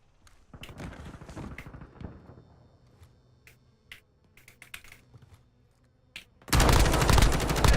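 Gunfire in the Warzone video game on PC, with scattered sharp shots and crackling impacts at varying distances, followed by a sudden loud, sustained burst of heavy noise near the end.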